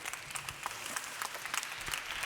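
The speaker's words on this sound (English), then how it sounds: "Round of applause, please." An audience claps for panelists after a discussion on business responsibility and human rights, a brief, fairly quiet patter of applause with no voices.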